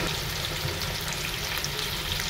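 Rohu fish pieces fry lightly in hot oil, a steady, dense sizzle and crackle that stays close and even throughout, with no talking.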